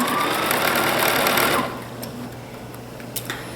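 Sewing machine stitching along a marked line on a pleated blouse sleeve at a low stitch setting, running loud and steady for about a second and a half, then stopping and leaving quiet room tone with a few faint clicks.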